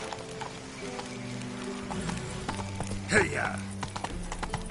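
Roach, the horse in the video game Witcher 3, gallops in a steady clip-clop of hooves under game music, with someone speaking over it and a brief shout near the middle.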